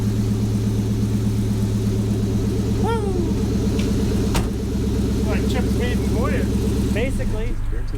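Car engine idling on its first drive, a steady low rumble with harmonic throb that stays loud and continuous, while a few brief chirps and squeaks cut in over it.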